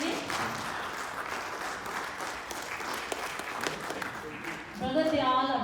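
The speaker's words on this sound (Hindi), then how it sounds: "तालियों के साथ इनको एप्रिशिएट करेंगे।" An audience in a church claps steadily in sustained applause, and near the end a voice starts speaking over the fading clapping.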